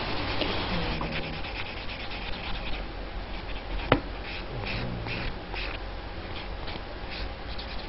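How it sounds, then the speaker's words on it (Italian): A soft nail file rubs across a natural nail to buff it, a close, continuous scratchy rasping in short repeated strokes with one sharp tap midway, no talking. "Iniziate ad opacizzare l'unghia naturale con una lima dolce adatta per le unghie naturali."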